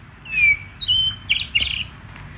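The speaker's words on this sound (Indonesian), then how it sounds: "Burung asli Bangka ini dia." Songbird native to Bangka, Indonesia, singing a few short bright whistled phrases and chirps, fairly close and clear over a low background hum, with no voices.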